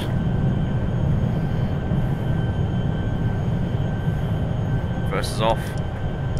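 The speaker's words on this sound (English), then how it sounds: "High speed takeoff." An Embraer 175 jet takes off in Microsoft Flight Simulator 2020 with a steady, loud broadband engine roar that never lets up, while someone speaks briefly over it.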